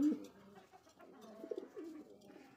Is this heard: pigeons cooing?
yes